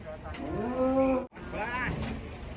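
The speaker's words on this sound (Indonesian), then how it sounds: "Kedatangan sapi ngamuk guys di pasar Jelok." A rampaging cow at a livestock market lets out two long, loud, close moos separated by a brief gap, the second rising and wavering, with faint crowd noise behind.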